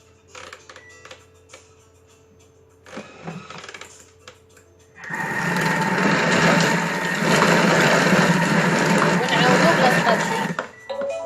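A Thermomix food processor runs at speed 5 on a healthy sellou mixture for Ramadan, made without oil or butter. A few quiet clicks come first, then a loud, steady whirring grind lasts about six seconds before it stops.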